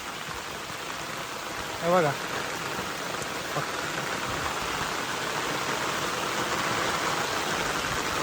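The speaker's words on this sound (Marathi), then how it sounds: "आणि पाऊस पण जोरदार आहे" Heavy Konkan monsoon rain falls over a cashew orchard as a steady, even hiss. A voice briefly speaks near the start before the downpour continues alone.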